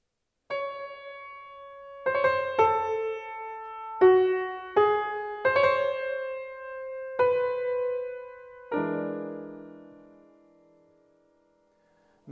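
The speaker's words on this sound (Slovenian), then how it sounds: "katere tema se najprej pojavi v trobenti in zveni takole" Solo trumpet plays the theme from Hartmann's First Symphony, Symphonia tragica, a sequence of clear sustained notes with short gaps, ending on a long fading tone.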